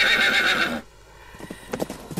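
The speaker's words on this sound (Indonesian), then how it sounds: "Suraqah bin Malik menaiki kuda dan mengejar Rasulullah SAW" A horse gives a loud, drawn-out neigh, then after a brief lull hooves clip-clop in a quickening gallop, close and strong.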